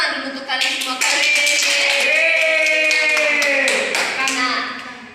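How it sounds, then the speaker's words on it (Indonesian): Classroom of elementary school students clapping their hands together, a steady burst of rhythmic claps mixed with children's voices chanting or singing over it, loud and close. "Oke, tepuk tangan dulu untuk kalian semua kalian."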